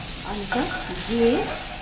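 Potatoes with salt frying in a pan and being stirred, giving a close, steady sizzle with scraping stir strokes and brief tonal squeaks over about two seconds.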